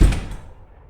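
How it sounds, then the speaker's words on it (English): An office door slams shut with one loud close thud and a brief ring that quickly fades to quiet. "And with that, Derek Foreman went back to his office, slamming the door behind him."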